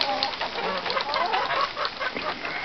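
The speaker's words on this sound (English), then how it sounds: "She's a little Polish hen." Polish hens and other chickens cluck and murmur close by in a busy, continuous chorus of overlapping calls on a cold, windy February day.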